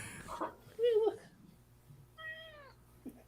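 A pet cat meows twice, close and fairly quiet, with a brief rising call near the start and another short meow later, over a quiet room with scattered voices.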